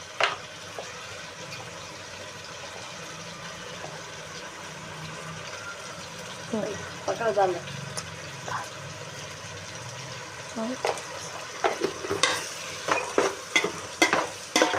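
Mutton biryani masala with turmeric being stirred in a pot, quiet sizzling under soft scraping strokes that grow busier and more frequent toward the end, close up and without speech.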